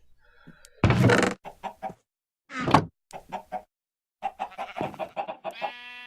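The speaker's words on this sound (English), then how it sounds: "this chicken machine, designed and built by Lokist, makes both raw and cooked chicken." Chickens cluck in short, separate bursts inside an automated chicken machine in the block-building game QuarryCraft, with sharp cackles and a brief crow-like call, close and clear against silence.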